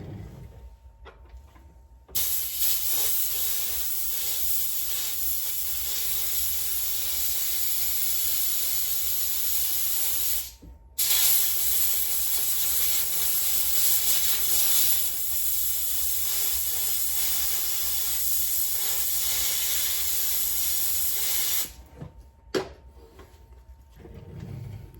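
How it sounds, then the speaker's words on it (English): Compressed air hisses loudly in two long continuous blasts, broken by a short pause, as it dries a fishing reel, then trails off into a few faint clicks and handling noises. "I'm gonna use my compressor for this one though."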